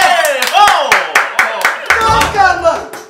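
A television studio audience bursts into applause to welcome a show host, a few seconds of close, loud clapping with sharp individual claps, mixed with voices and cheering.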